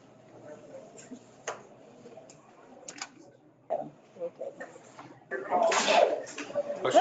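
A sneeze during a city commission meeting, sounding as a short burst amid scattered clicks, taps and room noise, with people talking nearby.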